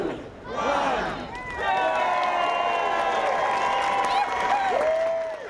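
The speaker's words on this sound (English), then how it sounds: "the waiting crowd rushed inside to check out the new Silver Spring Library" A crowd rushes in at the grand opening of the Silver Spring Library, loud cheering, whooping and clapping swelling after a brief dip, with voices through the excited din.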